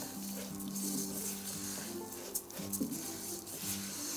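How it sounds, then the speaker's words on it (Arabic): Rice and lentils frying with onion in oil in a pan, a soft steady sizzle with occasional stirring scrapes and light patter, fairly quiet and close. "ما الرز والعدس هيك ياخذوا نكهة البصل ويتحمصوا شوي مع الزيت"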